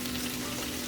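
Cabbage frying in a pan, a dense steady sizzle heard up close for under a second while it is moved around, with no talk.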